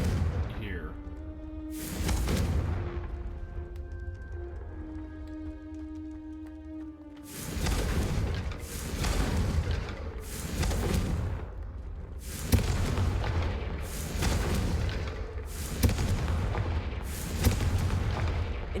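Explosive spell blasts in the Hogwarts Legacy video game, a string of six or seven loud booming bursts at a steady rhythm, each with a rumbling tail, preceded by a softer tonal shimmer of spell sounds.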